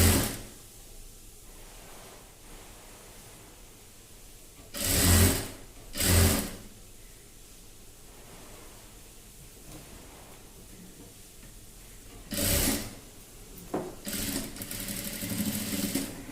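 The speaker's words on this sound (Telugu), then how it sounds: "ఇటు ఫోల్డింగ్ చేసుకొని ఇలా స్టిచ్చింగ్ చేసుకోవాలి." A sewing machine stitches a child's frock in a few short bursts of close, loud, whirring stitching, separated by quiet pauses, with no talking.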